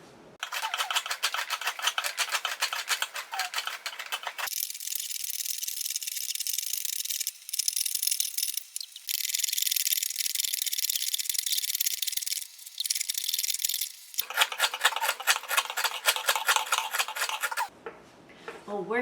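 A gouge carves a cello top in long, rasping scraping runs, each lasting several seconds and separated by brief pauses, close and crisp with no talk.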